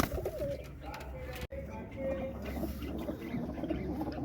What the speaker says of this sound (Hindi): इस बॉक्स में हमारी ब्लैक वाली जो बड़े साइज़ की कबूतरी है वो बैठी हुई है